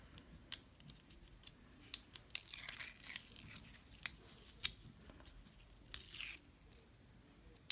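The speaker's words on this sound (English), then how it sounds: "now we're going to peel the backing off of our window" Backing film being peeled off adhesive foam strips on a shaker card window, with soft crinkly tearing and scattered sharp clicks and snaps, close and quiet.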